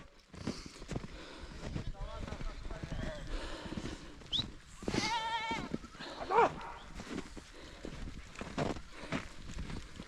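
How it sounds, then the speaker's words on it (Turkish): A flock of sheep bleats while grazing on a snowy mountain pasture, a few wavering calls scattered among people talking and footsteps nearby. "koyunumuzun yanına geldik. Koyunumuz güzelce sıralanmış. Yukarıdan iniyor."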